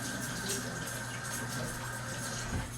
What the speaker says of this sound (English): I rinse off my hands.